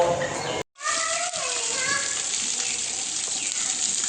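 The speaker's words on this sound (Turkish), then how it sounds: "Şimdi hayvanları yıkamaya geçeceğiz" Ice-cold well water, drawn up by a motor pump, runs in a steady rushing stream while cattle are washed after foot-and-mouth vaccination. The flow is briefly interrupted once, with voices faintly heard alongside.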